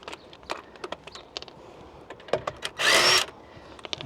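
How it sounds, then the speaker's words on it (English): Impact driver removing locking wheel bolts on a £1200 Audi A2 during a brake job: one short loud whirring burst amid scattered clicks and clanks of tools and parts, close by, with no talk. "I'm going to use this impact driver to get them off"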